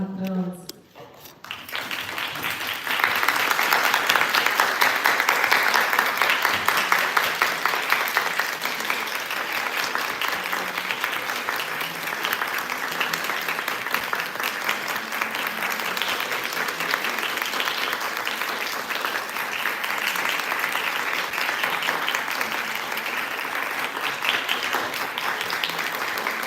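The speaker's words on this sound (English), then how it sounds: "Please stand up and welcome them with a big round of applause." A big round of applause fills a hall as judges enter, the standing audience clapping steadily and loudly for over twenty seconds after a brief quiet start, with no talk over it.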